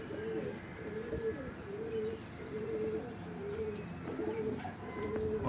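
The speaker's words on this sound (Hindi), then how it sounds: "ये गोल्डन कबूतर है।" Golden pigeon cooing on a rooftop, repeated soft low coos in a steady rhythm with a few faint chirps from other birds nearby, no talking.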